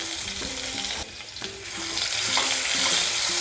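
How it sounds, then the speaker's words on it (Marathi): Cumin seeds and garlic paste frying in oil in a kadhai, a steady close sizzle with crackle and a few scraping stirs throughout, no voices. "जिरा आणि लसूण भाजून झालेली आहे"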